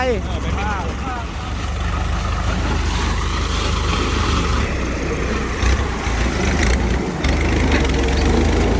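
A Thai-made sugarcane harvester runs with its blade spinning, giving a steady loud engine drone and mechanical whir throughout, with people talking over it.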